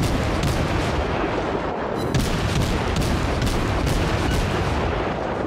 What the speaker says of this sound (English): Just gonna keep firing high explosive.